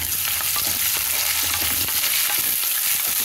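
Sliced onions and curry leaves fry in oil with a loud, dense, continuous sizzle and crackle close by, with faint stirring scrapes underneath and no voices.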